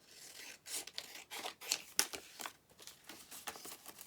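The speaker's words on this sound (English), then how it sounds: "Oh, I need to cut it down even more." Scissors cutting craft paper up close: a quick series of short snips and rustling paper crinkles, quiet and irregular, with no talk.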